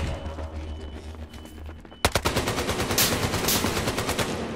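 Gunfire in Battlefield Hardline multiplayer: a few quiet seconds of ambience, then a sudden sharp shot followed by a steady, rapid automatic burst that continues to the end.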